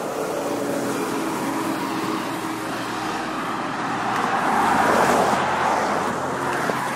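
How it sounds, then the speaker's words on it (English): A bus passes on a road, its engine and tire noise forming a steady broadband rumble that swells to a peak midway and then eases off. "There goes the bus."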